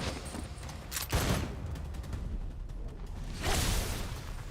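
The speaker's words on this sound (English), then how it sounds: "Just blocked a bullet, just swatted it out of the way." Video game Tekken 8 fight sounds: a sharp impact as a gunshot is blocked, followed by a swishing deflection and a second burst near the end, over a steady background din.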